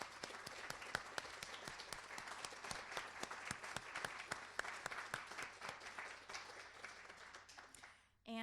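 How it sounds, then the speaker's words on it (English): An audience at an annual awards event and lecture applauds the board with steady, dense clapping that holds for several seconds before cutting off abruptly at the end. "I just wanted to give them a round of applause for all of their efforts"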